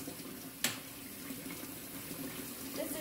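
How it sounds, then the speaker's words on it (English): A kitchen tap runs steadily to get the water hot, a faint, continuous splashing stream with a brief clunk near the start. "this is probably going to be noisy because I have to get my water hot"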